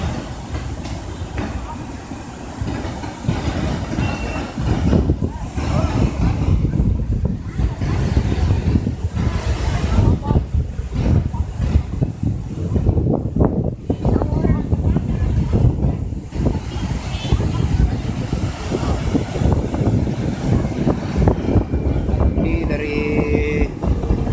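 Heavy river water rushing beneath the twin bridge in Gowa, a loud continuous roaring wash heard close throughout, with crowd chatter mixed in.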